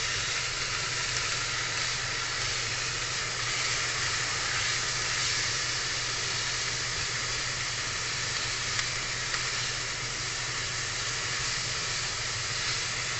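Pork sizzling in hot oil in a pan, a steady, dense frying hiss that runs loud and unbroken throughout with no talking.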